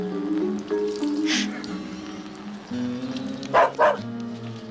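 A dog barks in two short, fairly close bursts over steady background music, with a neighbour's yard as the setting.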